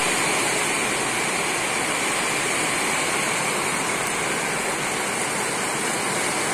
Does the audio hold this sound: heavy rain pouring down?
yes